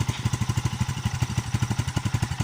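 A Kawasaki Bajaj CT 125 motorcycle engine idles close by with a steady, even thumping beat, a loud single-cylinder putter that had been puffing white smoke, running alone without voices.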